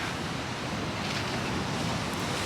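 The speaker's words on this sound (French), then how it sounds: "Regardez-moi ces vagues." Ocean waves break and wash ashore in a continuous loud roar of surf, with some wind rumble mixed in.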